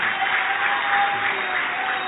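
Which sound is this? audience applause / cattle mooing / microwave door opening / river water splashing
audience applause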